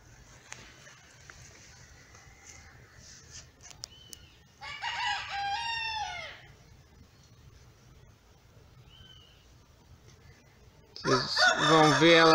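A rooster crows nearby, loud and drawn out, then later another loud crow bursts in near the end over quiet background and faint clucking.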